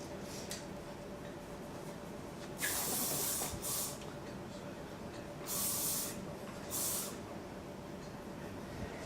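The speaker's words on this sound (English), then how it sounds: "Some spray." Quiet room tone broken by three hissing bursts of aerosol hair spray, each lasting about a second, close by.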